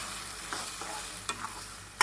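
Tomato gravy for an Andhra-style vada curry sizzles in a pan as it is stirred, a short close burst of frying with a couple of soft spoon scrapes.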